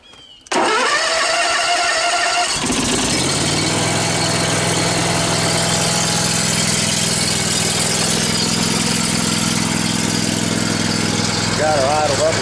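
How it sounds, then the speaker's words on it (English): A lawnmower with 375 hours on it cranks briefly and catches, then settles into a steady, loud idle running a little high, continuing close by and unbroken to the end. "I haven't started these lawnmowers this morning, so let me start this one here up."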